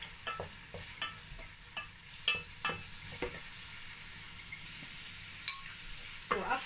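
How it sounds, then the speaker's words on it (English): Food is stir-fried in a pan with a soft, continuous sizzle under repeated scraping and clattering strokes of a utensil, close and fairly quiet, coming in an irregular rhythm. "So after stir frying this for about 2 minutes, I'm just gonna take it out."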